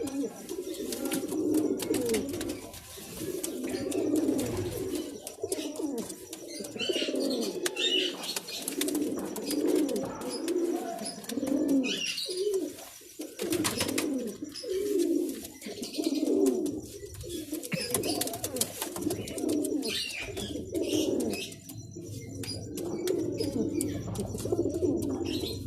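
Caged quails calling in a repeated, rhythmic series of mid-pitched, cooing notes that go on almost continuously for about 25 seconds, fairly close, with no talk.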